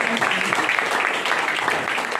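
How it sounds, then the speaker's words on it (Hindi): A seated audience at a DXN meeting in Jehanabad applauds Dr. S. Sanjay, with brief, steady clapping from a crowd and some voices mixed in. "और साथ ही साथ डॉक्टर एस. संजय के लिए भी जोरदार ताली।"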